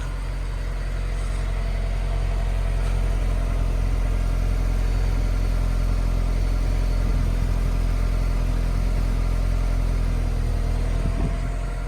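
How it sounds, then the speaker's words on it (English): A 2007 Honda S2000 engine idles in a steady, close, even hum with no clear rev standing out over the continuous drone. "Listen to it burble in the back a little bit. Then we'll give it a little rev."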